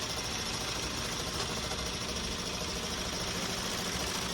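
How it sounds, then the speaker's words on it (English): Sewing machine stitching fabric, running as a steady, dense mechanical whir with a constant motor hum, loud and close with no pauses or talk. "Get my fabric in there, bring it down, and just start making stitches."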